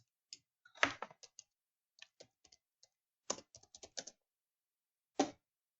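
Irregular bursts of crisp keystrokes on a computer keyboard, clustered in quick runs with short pauses between, close and fairly quiet with no talking.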